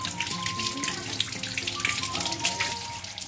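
About 2.5 kilograms of carrots are washed under running tap water for making gajar ka halwa, with a steady splashing stream and irregular watery clatter as the carrots are handled.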